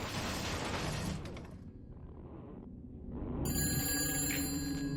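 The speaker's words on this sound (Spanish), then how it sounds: "Está sonando un teléfono, ¿eh?" A telephone rings in the video game Shadows of the Damned, a bright electronic trill that sets in partway through over a dim rumbling game background. A crashing noise comes before it.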